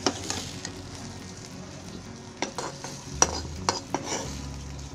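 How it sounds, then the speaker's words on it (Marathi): Masala roasting in a kadai while bhindi masala is being made, with a soft continuous sizzle broken by sharp scraping and clanking strokes of a spoon against the pan. "याच कढईमध्ये तो मसाला भाजून घेते."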